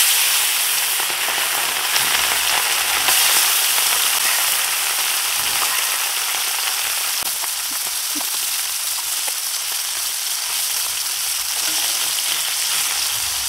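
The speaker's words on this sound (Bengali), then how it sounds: "এবার মাছগুলো প্রথমে ভেজে নেব। মাছ ভাজার জন্য কড়াইতে তেল দিয়ে দিয়েছি" Small fish fry in hot oil in a wok, giving a loud, steady, dense sizzle with fine crackling throughout and no talking.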